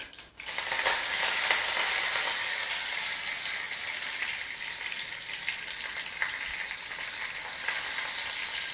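Curry leaves dropped into hot oil with cumin on a lowered gas flame sizzle and crackle loudly and steadily throughout, with no talking, while preparing a bread pakoda filling.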